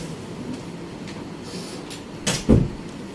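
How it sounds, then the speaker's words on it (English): A door is shut indoors, a sharp knock followed by a solid thud near the end, against quiet room noise and faint rustling with no talk. "Close the door."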